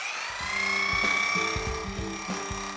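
Electric horse clippers buzz steadily with a high whine, their motor pitch dipping and surging in short bursts as they press against the horse's coat, close and fairly loud.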